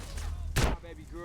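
A single brief gunshot burst in Grand Theft Auto: San Andreas, a randomizer run, pops out of a steady backdrop of game noise and music, short and moderately loud.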